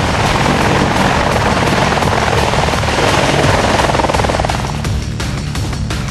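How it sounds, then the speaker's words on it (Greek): AH-64 Longbow Apache attack helicopter of the Greek army at an army attack-helicopter battalion base, a loud, close, continuous rotor thrum and turbine roar that holds steady throughout. "το επιθετικό ελικόπτερο Longbow Apache που απέκτησε πρόσφατα ο ελληνικός στρατός"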